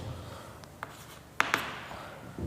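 Marker or chalk strokes on a classroom board during a programming lesson: a few faint, short scratches and taps, close and quiet against soft room noise.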